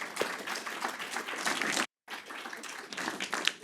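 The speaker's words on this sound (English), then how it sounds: "let's give Sandy a round of applause" An audience at a talk on women in African philanthropy applauds for Sandy, a steady mass of clapping with a brief abrupt dropout to silence midway before it resumes.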